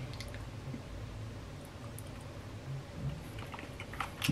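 Soft, wet chewing of a pulled pork pot with potatoes and kidney beans, close and quiet, with small squishy bites and a faint clink near the end.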